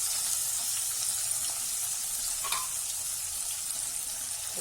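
Chopped onion, green chilies and radish pieces fry in a pan for a radish sambar, giving a soft, even sizzle with faint stirring that stays low and steady.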